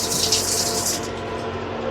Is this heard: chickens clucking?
no